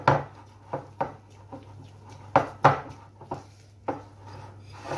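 Pistachio macaron batter with pistachio paste is stirred in a bowl, giving a series of soft, irregular scraping knocks of a utensil against the bowl, close and fairly quiet, spread across several seconds.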